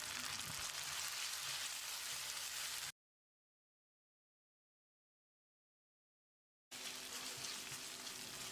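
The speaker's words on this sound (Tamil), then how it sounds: "100 கிராம் அளவுக்கு ஒரு தக்காளியை நறுக்கி வச்சுருக்கேன். இதை போட்டு மசிகிற அளவுக்கு வதக்கிடலாம்." Chopped tomato sautéing with onions in a pan for chicken gravy, a steady close sizzle and faint stirring, broken by a stretch of silence in the middle.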